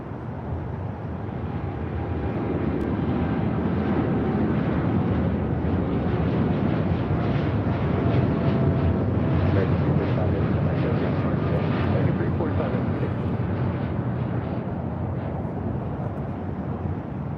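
American Airlines 787-8 Dreamliner departing Los Angeles International Airport, a broad steady jet roar from a distance that swells gradually and holds for many seconds before easing slightly.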